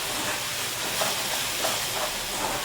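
Spices, garlic and curry leaves roasting in a pan, giving a soft, even sizzle and hiss that runs steadily without pause and without any talk.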